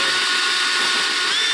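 A power drill whines continuously at close range, a loud, steady high-pitched grind as it bores out a hole through a metal propeller hub with a dull bit.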